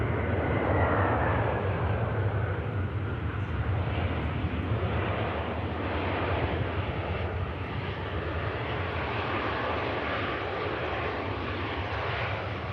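An EasyJet airliner rolls out along the runway after landing at Manchester Airport, its engines giving a continuous, moderately distant broad rumble and whine that stays steady throughout, with no voices.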